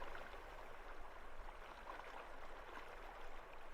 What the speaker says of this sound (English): The river's sound seems to deepen during these hours as well